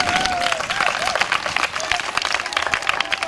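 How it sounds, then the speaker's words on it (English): Schoolchildren clapping for their teachers at a school supply event for poor children, a steady dense patter of hand claps with some crowd noise and a high voice rising above it. "A sound clap for your teachers."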